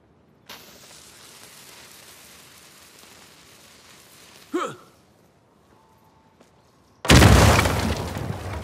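In a video game, a low hum and a short vocal gasp come first, then a sudden loud dynamite explosion booms in and keeps rumbling to the end.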